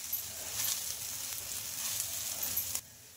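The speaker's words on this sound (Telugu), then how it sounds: "దోశ కాలిన తర్వాత అయితే తిప్పేస్తున్నానండి" A chickpea dosa sizzles and fries in oil on a hot pan just after being flipped, making a steady soft crackling hiss that cuts off abruptly near the end.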